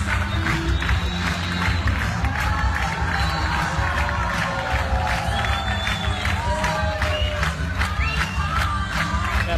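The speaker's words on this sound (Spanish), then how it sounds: "Aplaudiments, un esclat davant la potència d'aquesta interpretació" A large outdoor crowd in front of the Palau de la Generalitat breaks into loud, sustained applause and cheering after a projection show on the façade, with dense clapping and shouts filling the whole stretch.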